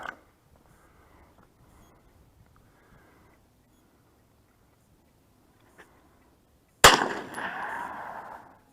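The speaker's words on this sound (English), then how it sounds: "You hear that ricochet?" A single shotgun blast outdoors at about 6.9 seconds, sharp and loud, its ricochet off rocks trailing into a long fading rumble, after a near-silent stretch with faint handling clicks.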